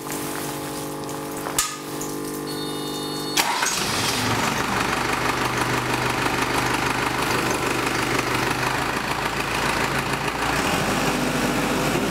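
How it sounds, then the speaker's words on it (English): A diesel emissions tester's sampling pump starts up abruptly after a couple of faint clicks and then runs with a steady, close, dense mechanical hum to the end. "You hear the pump come back on, and it's sampling again."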